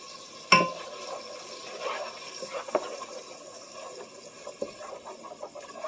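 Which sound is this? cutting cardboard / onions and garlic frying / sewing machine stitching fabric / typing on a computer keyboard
onions and garlic frying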